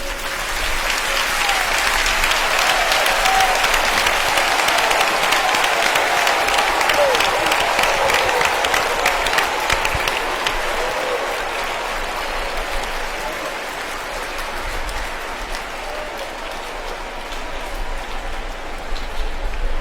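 A large crowd applauds loudly and continuously at a children's diocesan pilgrimage in Yamoussoukro, with dense, sustained clapping for about twenty seconds and a faint voice beneath it.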